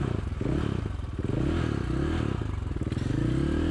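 A KTM enduro motorcycle, stuck among rocks with its front wheel wedged in a rut and its rear wheel hanging in a hole, revs hard and unevenly close by. Pulsing engine chatter mixes with clattering and scraping.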